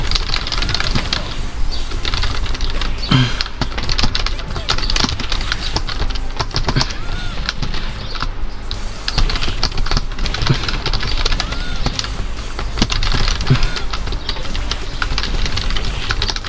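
Rapid, continuous clattering of keys being pressed on a keyboard while playing Marvel Super Heroes vs Street Fighter, dense irregular taps close up against a busy game-sound background.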